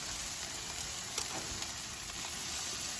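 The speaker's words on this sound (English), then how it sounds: "Let's grill it, flip it over again." Chicken breast sizzles steadily on a grill, a close, even hiss and crackle with small pops and no voices.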